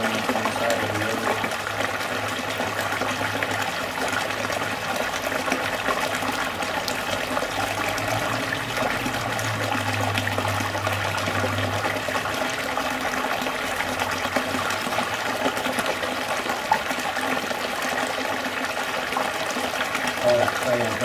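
Water rushes steadily through a sluice beside a river, a loud continuous broadband roar with a low hum that shifts midway, sustained for about twenty seconds.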